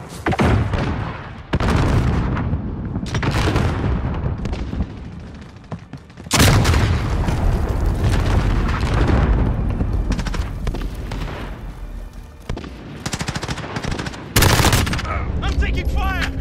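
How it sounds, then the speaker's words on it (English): Gunfire and explosions in a military video game: repeated loud booms and bursts of rapid shots, with heavy impacts around six and fourteen seconds and radio-style voices mixed in between. "I'm taking fire!"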